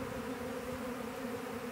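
A honey bee swarm that settled along a driveway makes a dense, steady buzzing drone, continuous and moderately near, with no voices.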